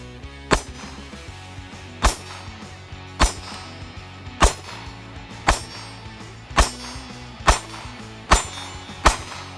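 Sig Sauer P365 SAS pistol fired nine times in a steady, evenly spaced string, each shot a sharp, loud crack over a low ambient background with no talking.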